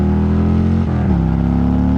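A Harley-Davidson Road King's exhaust roars loud and steady under hard acceleration on the road, with a deep rumble that shifts gear briefly partway through before pulling on.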